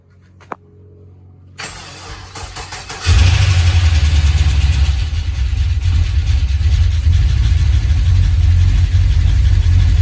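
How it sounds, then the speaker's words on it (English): A Holden VE SS with an LS V8 and freshly swapped cam cranks over and fires up loudly, settling into a steady, throaty idle that continues close and unbroken after a few quiet workshop clatters. "Filling up the coolant, then we can start the car up."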